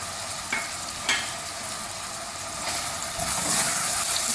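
Onion, tomato and ginger fry in a pan while being stirred. A steady bright sizzle runs throughout, broken by a few scraping stir strokes, and the sizzle swells toward the end.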